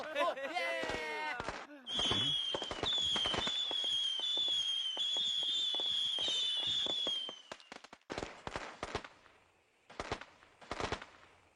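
Firecrackers burst in quick irregular volleys of sharp cracks at a festive celebration, loud and close with a sizzling whistle between bursts, then trailing off into scattered pops, with voices around them.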